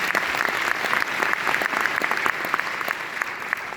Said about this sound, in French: On applaudit Manon.